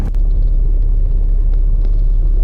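A drag car pulls away from a low roll at about 5 mph, giving a loud, deep, steady engine rumble close by with no talk over it.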